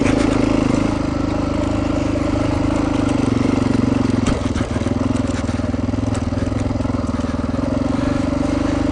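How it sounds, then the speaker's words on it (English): A high-torque trail motorcycle climbs a forest road near Meeker, Colorado, its engine droning steadily and loudly throughout with gravelly clatter from the tires, recorded close on the bike. "on a bike with a lot of torque, you just motor right on up"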